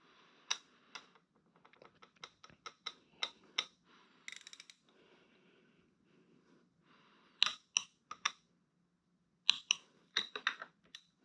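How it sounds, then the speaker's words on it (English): A torque wrench clicks sharply under pressure while lug nuts are tightened back and forth, with clusters of close, crisp clicks and ratchet ticks and quiet gaps between them. "You want to go back and forth till both of them just immediately click as soon as you start to put pressure on that wrench"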